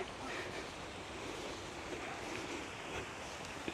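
Small waterfalls in a winter park in Odesa keep up a steady, soft rushing wash of water, fairly faint and continuous, with light wind noise and no talk.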